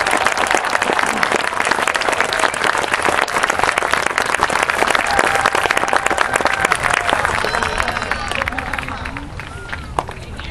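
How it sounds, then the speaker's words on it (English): Loud, sustained applause from a school audience honoring outstanding students at an awards ceremony, dense clapping throughout that thins slightly near the end while a voice begins to speak. "Let's have a round of applause for these outstanding students."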